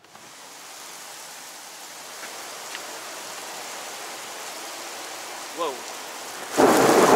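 Heavy rain from a thunderstorm squall line hisses steadily, then surges into a much louder, closer downpour near the end, while a voice briefly exclaims partway through.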